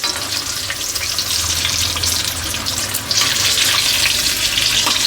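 Mirchi bajji, chili fritters in batter, fry in hot oil with a dense, continuous sizzling hiss that stays loud and close throughout, swelling slightly partway through, with no voices.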